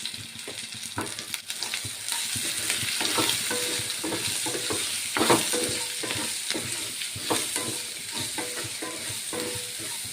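Spices frying in a pan for a Telugu-style potato curry, with a steady crackling sizzle and repeated scrape-and-stir knocks of a spoon through the whole stretch; no voices.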